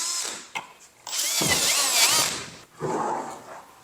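A cheap hand tool punches a square hole into a chunk of oak, giving a loud grinding, drill-like burst of about a second and a half after a short knock, then a quieter follow-up scrape and a final sharp click.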